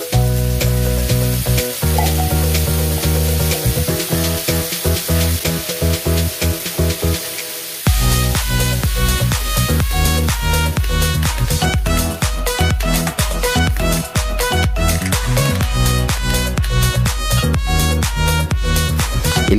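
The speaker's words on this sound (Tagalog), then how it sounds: "Igisa ang bawang sibuyas at ang corn beef at hayaan ito ng 2 minuto." Garlic, onion and corned beef sautéing in a pan, a dense steady sizzle with stirring scrapes, joined partway through by a louder, busier layer of frying and clatter with no talk.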